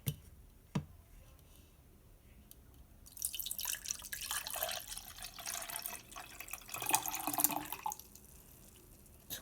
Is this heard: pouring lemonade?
yes